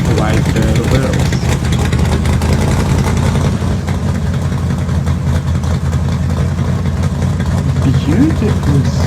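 A pro street muscle car's engine rumbles through its exhaust, a loud, deep, continuous low throb with a choppy idle texture, heard close with faint voices beneath.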